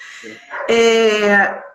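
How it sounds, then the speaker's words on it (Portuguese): A dog barks and whines nearby inside a home, one drawn-out, loud yelping bark rising from a short whimper, heard with no speech over it. "deixa eu fechar aqui que os cachorros estão latindo"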